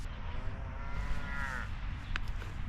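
A cow gives a single drawn-out moo close by, rising and fading over a second or so against steady outdoor rumble.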